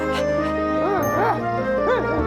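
A dog named Woofy with a bucket stuck over its head gives a few short yips and whimpering cries in a rising and falling pattern, set over a steady musical background.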